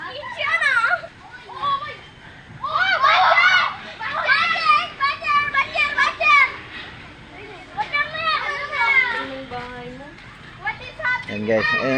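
Children playing indoors at home, lively high-pitched chatter, shouts and squeals from several kids, close and continuous with brief pauses.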